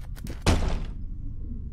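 A door in the horror game Layers of Fear gives a single heavy thunk as it swings open, a sharp low thud followed by a short fading rumble, preceded by a few faint clicks.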